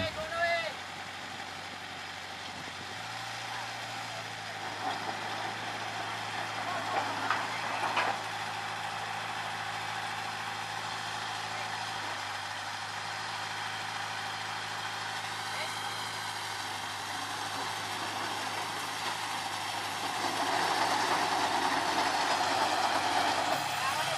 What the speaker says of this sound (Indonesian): terlihat lokomotif maju kembali untuk melangsir rangkaian lori-lori kosong ini